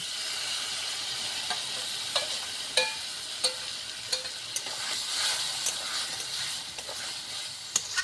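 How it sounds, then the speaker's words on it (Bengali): Fried and ground green chili with cumin sizzling in a pan, a steady close hiss of frying punctuated by regular clinks and scrapes of a spatula stirring, with no speech. "এখন আমি দিয়ে দিব ভেজে বেটে নেওয়া কাঁচা লঙ্কা আর জিরে।"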